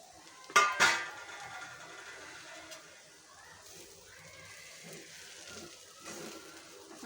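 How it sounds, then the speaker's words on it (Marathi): Green bean curry tossed with grated fresh coconut in a pan: a couple of sharp metal clanks of a spatula, then quieter scraping and stirring. "आता त्यात ओल्या नारळाचा किस टाकायचा आहे आणि फक्त दोन मिनटं परतून घेऊया"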